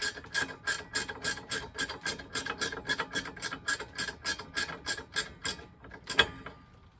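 A 14mm wrench loosens wheel nuts on a 1994 Miata, its ratchet clicking in a fast, steady run of about fifteen strokes close up, ending in one final louder click, with no voices.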